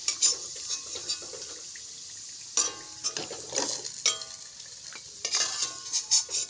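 Carrot pieces frying in oil in a village kitchen, a quiet crackling sizzle broken by metal utensil scrapes, stirring and clinks of a pan, with no talking.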